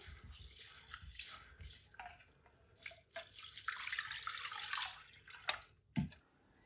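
Rice being rinsed by hand in a vessel of water, with soft splashing, swishing and trickling at close range and a few drips near the end.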